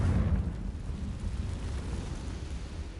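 A single explosive blast from the Confringo fire spell in a Harry Potter video game, a loud low boom at the start that trails into a sustained rumbling roar.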